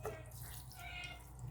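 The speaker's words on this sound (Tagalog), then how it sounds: "Tapos lagyan ko ng tubig." Water pours from a tap into a cooking pot while milkfish paksiw is being prepared. A soft, faint stream splashes and trickles, with no one talking.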